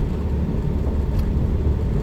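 A Renault 10's running engine with a pulley-driven fan makes a steady, loud, low rumble at close range, unbroken and with no voices.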